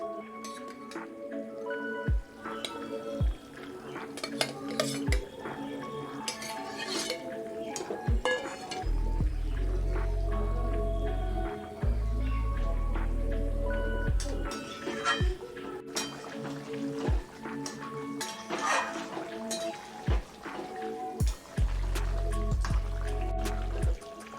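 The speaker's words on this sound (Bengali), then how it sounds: "ঝোল ফুটে উঠেছে, এখন দিয়ে দেবো ভেজে রাখা মাছ।" Pieces of fried fish go into a pot of boiling fish curry gravy with repeated wet plops and squishes, a spoon clinks against the pot, and the thick liquid bubbles in low, sustained stretches.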